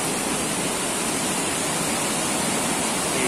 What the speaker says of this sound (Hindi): इधर से भी पानी नीचे जा रहा है और ये वाला भी पानी नीचे जा रहा है और नीचे एकदम खाई में जा रहा है।